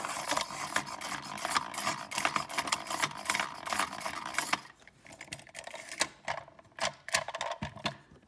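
A Carl Angel-5 pencil sharpener grinds a Dixon Ticonderoga pencil in a dense, rapid mechanical whirr with faint clicks, then stops around the midpoint, leaving a few sharp scattered taps and rattles in near silence.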